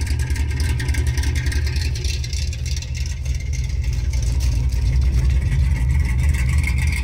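A 1970 Dodge Charger V8 with a newly installed Accel distributor runs at a slightly high idle, giving a steady, loud, continuous low rumble with no pauses throughout.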